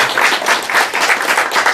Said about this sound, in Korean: 우리 청년들과 JL팀을 위해서도 뜨겁게 박수해 주세요